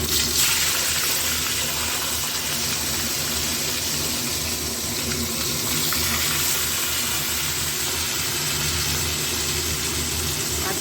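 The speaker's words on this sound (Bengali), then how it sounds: "মাছগুলো এক এক করে সব ভেজে নেব" Katla fish pieces frying in hot oil give off a loud, dense, continuous sizzle and crackle that holds steady from start to finish.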